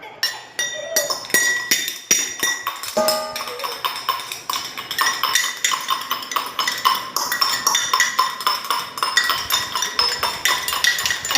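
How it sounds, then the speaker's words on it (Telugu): Small metal pots and vessels clinked and struck together in quick, ringing bursts that repeat throughout, close and fairly loud, with faint voices now and then. "ఏమాటారా గిన్నెలతోని?"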